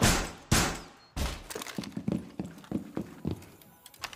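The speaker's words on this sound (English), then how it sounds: "I'm breaking this down" Barricade being broken down in Rainbow Six Siege: two sharp heavy smashes at the start, then a rapid run of lighter splintering knocks and thuds, close and loud.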